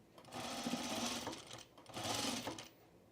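Sewing machine stitching pocket to pocket on a pre-quilted knit jacket, two close, steady bursts of rapid mechanical whirring separated by a brief pause.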